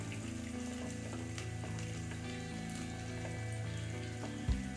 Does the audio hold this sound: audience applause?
no